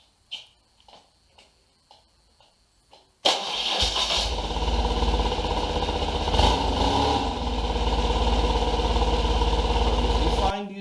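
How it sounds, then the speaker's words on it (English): A few soft clicks, then a BMW R1150RT motorcycle engine cranks and fires up after an air filter change, settling into a steady, rumbling idle that continues to the end. "We're going to have a test start of the motorcycle."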